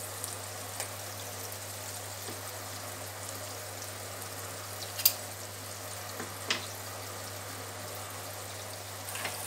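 Tuna in sauce cooks in a pan with a soft, steady sizzle and low bubbling, broken by a few faint clicks and taps, with no talking.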